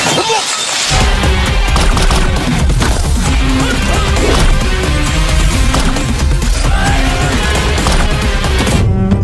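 Gunfire in a Malayalam movie scene, loud bursts and crashing impacts that run densely across the whole clip with no pause, mixed into a busy soundtrack.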